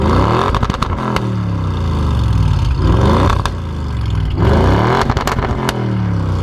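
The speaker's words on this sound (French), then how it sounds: "la RS6 pour un moteur turbo fait beaucoup de bruit avec l'échappement Miltech" A turbocharged Audi RS6 C7 with a Milltek exhaust revs hard and close, engine pitch sweeping up and down repeatedly in loud bursts with crackling pops between the pulls.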